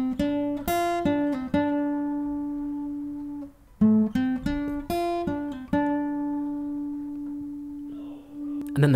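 A short melodic guitar phrase from a song, plucked single notes and quick hammered runs, played clearly and alone, with a brief pause midway before the line continues.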